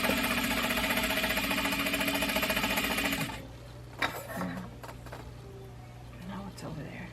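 A Juki DDL-8700 industrial sewing machine runs with a loud, steady whirring hum and a noisy fault for about three seconds, then stops, leaving faint handling knocks and a low background drone.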